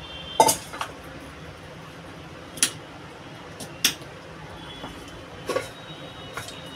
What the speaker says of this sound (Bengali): বন্ধুরা কুমড়োটা এমনি করে কাটবো, এরকম ছোট ছোট করে কাটবো।